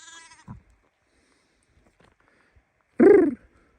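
Two short, close bleats from lambs, one brief at the start and a louder, fuller one about three seconds later, with quiet pauses between in a rural flock of sheep and goats.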